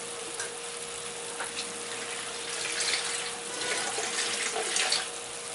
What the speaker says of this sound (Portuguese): aí você põe essa água e vai cozinhando